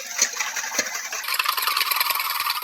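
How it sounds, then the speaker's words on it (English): Eggs whisked together in a bowl for a classic pumpkin pie, a quick rapid clattering of wire whisk against the bowl, close and moderately loud, speeding up into a dense steady rattle after the first second. "I'm just going to whisk these eggs together"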